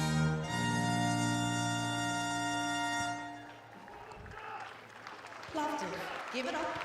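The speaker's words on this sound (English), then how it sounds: "Big round of applause for all the athletes" Applause for the athletes at a rowing victory ceremony at the Under 19 World Rowing Championships in Plovdiv rises as the anthem music ends, a steady crowd clapping mixed with an announcer's voice.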